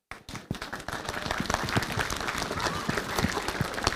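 Audience applause at a mayor's New Year greetings ceremony, dense clapping that builds quickly after a brief silent start and holds steady and close for about four seconds.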